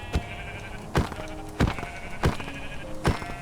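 Blocky sheep in Minecraft bleat in five short, evenly spaced calls about every 0.7 seconds, moderately loud and close, with no talking over them.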